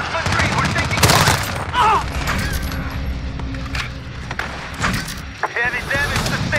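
Rapid bursts of automatic gunfire from an MP7 submachine gun in a Call of Duty multiplayer match, loud and dense with overlapping shots, game sound effects and radio-style voices mixed throughout.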